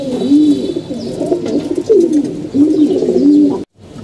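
A pigeon coos repeatedly up close, low throaty rolling calls in a steady rhythm, loud and clear with little else around.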